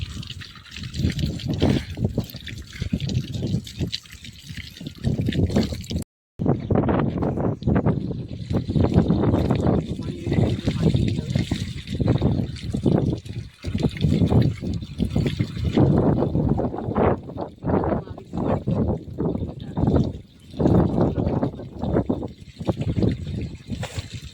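Water gushes loudly and close by in a continuous, churning flow, surging and splashing with one brief cut partway through.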